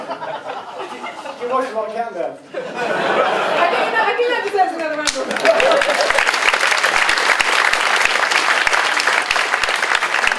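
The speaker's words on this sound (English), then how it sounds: "I think that deserves another round of applause." Applause from a live theatre audience at a comedy stage show about railway stations, starting with laughter and chatter for a couple of seconds, then swelling into loud, sustained clapping that fills the rest of the clip.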